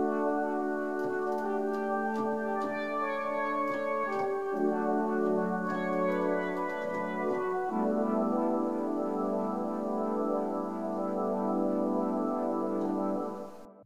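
Layered synth patch combining a horn-style arrangement with a Yamaha CS-80 sound, sustained brassy chords moving through a few changes, played alone and steady before fading at the end.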